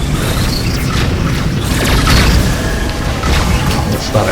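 Broadside missile volleys launching from a starship in the space combat game Rebel Galaxy, a dense continuous roar of booming blasts and mechanical clatter with thumps swelling near the middle, loud throughout.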